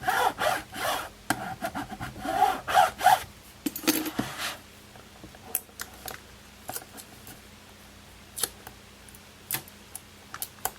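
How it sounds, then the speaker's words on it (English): A squeegee rubs over vinyl transfer tape laid flat, giving a burst of close scraping strokes at first, then sparse short scuffs and ticks against quiet. "since it's flat I can use the squeegee"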